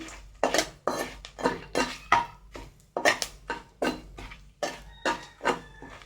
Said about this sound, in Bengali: এলাচ লবঙ্গ দারচিনি দিয়ে দিলাম কড়াতে ভালো করে এটা নেড়ে ছেড়ে নিতে হবে